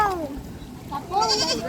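A goat bleats near and loudly in two wavering, nasal cries, the second higher and more strained, with faint outdoor background and no talk.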